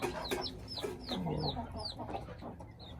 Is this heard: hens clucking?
yes